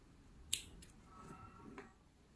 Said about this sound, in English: Just leave a little tail and cut it off.